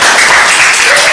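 Church congregation applauding, a dense steady wash of many hands clapping at close range, continuous and fairly loud throughout with no breaks.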